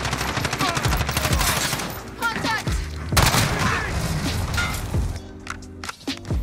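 Striker 45 submachine gun fire in Modern Warfare, a new DLC weapon, with dense rapid bursts and booming impacts filling most of the stretch, pausing briefly around the middle, then tapering to scattered shots and thuds near the end.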